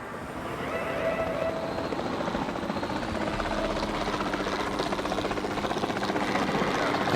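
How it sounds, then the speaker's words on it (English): A helicopter flies in Jurassic World Evolution 2, its rotor giving a steady whirring drone that fades in and then holds at a moderate, even level for several seconds. "let's get in our chopper again"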